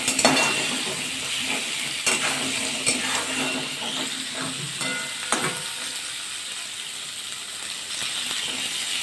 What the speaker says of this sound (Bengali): পটলটাকে নাড়াচাড়া করে নেবো ভালো করে ভাজা করে নেবো